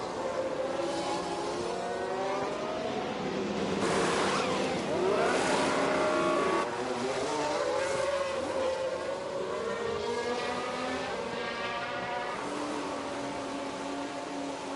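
Formula 1 cars in F1 Manager 22 at Paul Ricard peeling into the pit lane, a steady blend of whining engines rising and falling as several cars pass, with race ambience throughout and no talk.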